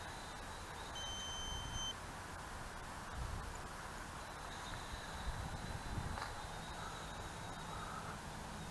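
An electronic flight timer for a small quadcopter gives a few thin, high beeps right after being reset, then a fainter sustained tone, over soft outdoor rustling.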